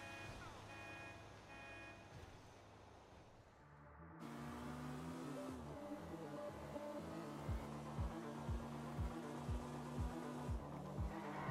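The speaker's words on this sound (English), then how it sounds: "it sounds like a sports car" Sports car engine in the video game GTA 5, a steady humming drone that shifts in pitch partway through, then a series of rhythmic revving pulses near the end, with no talking.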